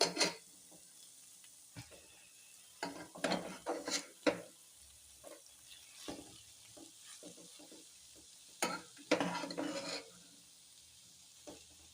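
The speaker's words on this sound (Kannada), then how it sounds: "ಎಲ್ಲ ಚೆನ್ನಾಗಿ ಮಿಕ್ಸ್ ಆದ ನಂತರ ಇದಕ್ಕೆ ಇವಾಗ ಅನ್ನನ ಮಿಕ್ಸ್ ಮಾಡ್ಕೊಳ್ಳಿ" Cooked rice is stirred into frying vegetables for veg fried rice, with a spatula scraping the pan in irregular close strokes and clusters over a faint background sizzle.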